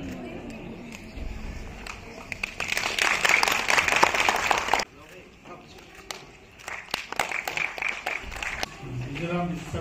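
An audience in a hotel auditorium applauds at a Rongali Bihu celebration, a burst of dense clapping lasting a few seconds before it fades, with voices talking around it.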